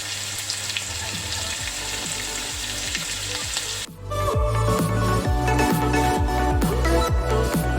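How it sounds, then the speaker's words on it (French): Veal escalope fries in fully melted butter in a pan, a loud continuous sizzle that grows more crackly partway through, with faint clicks and scrapes and no talking. "une fois que le beurre est totalement fondu, on ajoute la viande et on la laisse cuire sur les côtés"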